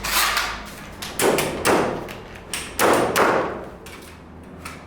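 A Hikoki cordless nail gun fires nails in a series of sharp thuds, about five or six irregularly spaced impacts with short hissing tails, close and fairly loud with no voices.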